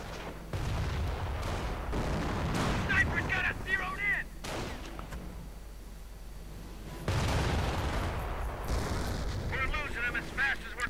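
A World War II strategy video game plays an artillery barrage and gunfire, with heavy rumbling booms and sustained firing, loud and dense, interrupted by a brief lull and mixed with game voice chatter.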